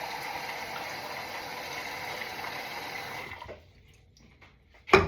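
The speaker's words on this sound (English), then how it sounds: "I'm just gonna shower in cold water" Cold water sprays steadily in a shower as a dense hiss, then cuts off into near quiet before a sharp knock at the end.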